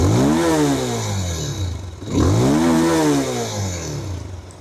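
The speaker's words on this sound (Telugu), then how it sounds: "సో ఫస్ట్ అయితే మీకు దీని ఎగ్జాస్ట్ నోట్ వినిపిస్తాను చూడండి." A Bajaj Pulsar 220F with a single long exhaust pipe is revved hard twice up close, each blip swelling sharply and then falling away into a rumbling idle.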